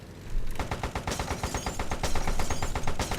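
Sustained automatic gunfire in the Airfix Dogfighter air-combat video game, a rapid rhythmic burst of shots running nearly the whole clip, loud and continuous with no voice over it.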